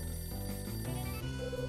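A telephone ringing in the game Last Window: a steady electronic ringing tone sounds across the short moment, fairly quiet and alone, with no voices over it.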